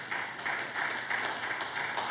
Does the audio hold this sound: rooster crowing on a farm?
no